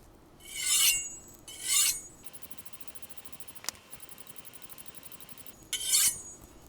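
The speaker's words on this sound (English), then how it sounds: "Now I'll move up to the 400 grit stone." Kitchen knife drawn across a 400 grit whetstone: three gritty, hissing rasps, with a fast, even run of light ticks between the second and third.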